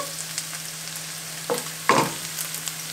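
Onion and garlic frying in a pan, a soft steady sizzle running throughout, with a couple of brief louder stirring scrapes near the middle.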